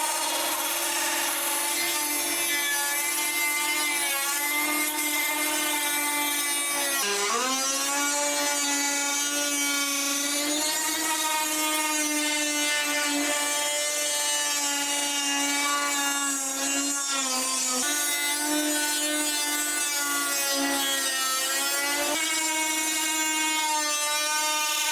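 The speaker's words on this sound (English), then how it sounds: "Now that we've done the rough trim using the Dremel" A Dremel rotary tool whines at high pitch as it trims the edge of a carbon fibre bonnet, its tone dipping and recovering as it bites into the material, loud and continuous.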